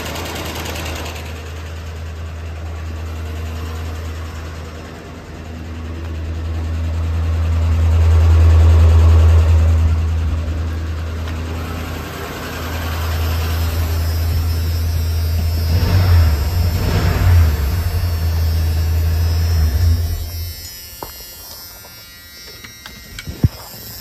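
A Ford F-150 truck engine with freshly hooked-up exhaust runs steadily, a loud low drone rising and falling through several revs before cutting off near the end, with scattered clanks afterward.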